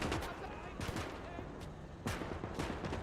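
A Katyusha rocket barrage in the WW2 game Gates of Hell Ostfront sounds as a rumbling series of loud bursts and booms over a dense battle din, with a voice briefly talking over it.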